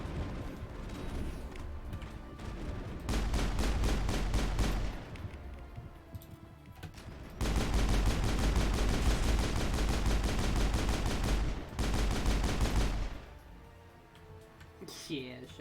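Rapid bursts of pistol gunfire in the Mass Effect video game, two long sustained stretches of fast, loud shots under game music, with talk from a player heard around them.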